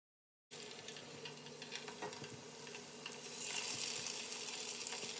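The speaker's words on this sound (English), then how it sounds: "we are getting ready to fry the tofu" Tofu fries in a pan with a steady, close sizzle that starts abruptly and swells louder toward the end, with occasional stirring scrapes.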